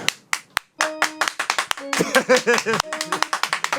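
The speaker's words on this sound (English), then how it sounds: "Jimmy clapped for himself. He's also standing up and clapping." A few people in a radio studio clap their hands in bursts as a vote by applause, sharp claps near and loud, with voices talking and laughing over them.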